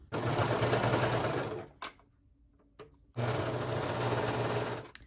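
A sewing machine stitches the side and sleeve seams of a T-shirt in two loud, fast, continuous bursts of whirring stitching, separated by a short quiet pause with a few clicks.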